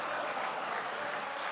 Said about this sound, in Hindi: पांच लोगों के हिस्से की तालियां आपने बजाई हैं।